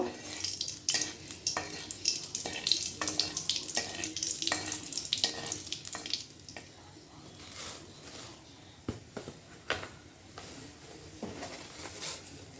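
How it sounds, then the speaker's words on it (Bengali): Whole dried red chilies fry in hot oil for spinach dal, giving a soft sizzle with scraping and stirring clatter from a utensil in the pan, fairly quiet and close. "তেল চাপিয়ে দিয়েছি, তেলে দিয়ে দিয়েছি দেখো গোটা লঙ্কা"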